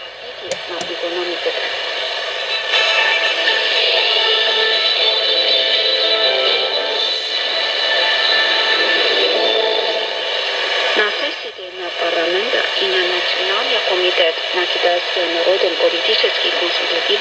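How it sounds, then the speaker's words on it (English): Shortwave static and hiss from a homemade shortwave radio with its noise filter switched off, a steady loud wash of broadband noise with faint warbling tones, briefly dipping near the end. "I switch the noise filter off now."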